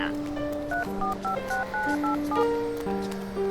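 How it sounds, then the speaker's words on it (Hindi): A telephone is dialed, a quick run of distinct touch-tone beeps playing over a steady background tone, clear and close. "एक बार कॉल करके देखो ना।"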